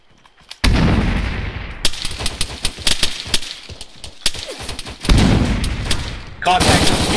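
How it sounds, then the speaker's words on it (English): Gunfire in ARMA 3 erupts in loud, close, sharp cracks and bursts, with a sudden start, irregular volleys and echoing tails, during a Navy SEAL co-op firefight. "There's guys shooting up at us from your left."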